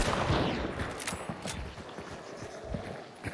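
Video-game gunfire crackles in rapid bursts at close range, dense repeated shots layered over a steady noisy backdrop, loud throughout with a few sharper cracks standing out.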